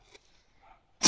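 A hedgehog lets out a single sharp sneeze at the very end, after faint rustling and quiet background.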